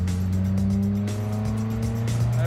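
The rebuilt engine of a mini truck roars steadily on a first test drive, with a sustained droning note and shifting engine tones, loud and close throughout.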